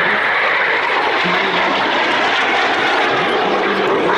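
Loud, continuous jet roar from F-5 Freedom Fighter aircraft of the Turkish Stars aerobatic team during a display flight, a broad, steady rushing sound throughout.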